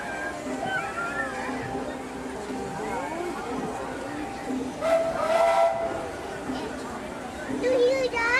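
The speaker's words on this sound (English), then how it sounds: "It's a choo-choo." A Disneyland steam train at Main Street Station, Main Street, USA, sounds a loud, hissing whistle blast in the middle of the clip, over a busy background with people talking.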